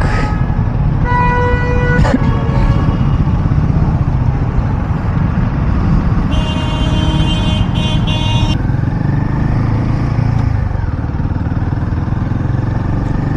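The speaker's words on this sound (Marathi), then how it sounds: "परत ट्रॅफिक." Steady road traffic rumble in Kolhapur with repeated vehicle horns honking, a couple of long tonal blasts standing out clearly over the constant engine noise.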